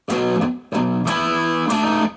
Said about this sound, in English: I've got a healthy dose of distortion, which you can hear